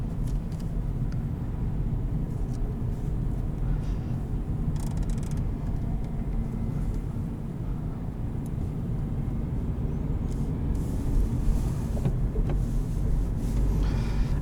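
A 2018 Honda Civic LX with a manual gearbox drives along steadily, its low engine and road rumble continuous and close, with slight shifts in tone and small mechanical clicks hinting at gear changes.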